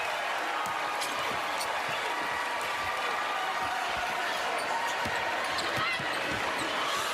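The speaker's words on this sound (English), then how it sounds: "Crowd on its feet, ready to party." Basketball arena crowd at a women's NCAA championship game between UCLA and South Carolina, a dense, steady roar of cheering and noise filling the space throughout, with scattered sharp thumps and bursts.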